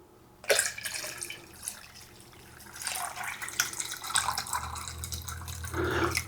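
Water pouring into a tea pitcher to top it off, a steady splashing fill that starts abruptly and swells louder toward the end, close and alone.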